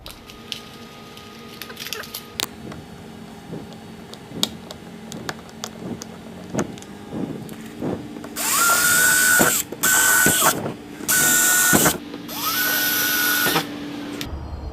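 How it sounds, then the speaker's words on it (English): A power drill whines in several short high-pitched bursts while drilling holes in a kayak, spinning up and stopping repeatedly, preceded by scattered clicks and taps. "There we go, drilling holes in my kayak again."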